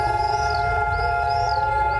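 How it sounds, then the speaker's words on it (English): A sustained siren marks the start of Israel's Memorial Day, a loud steady wail with a faint rising and falling tone on top, continuous with no voices. "As a siren sounded to mark the beginning of Israel's Memorial Day, the country came to a standstill."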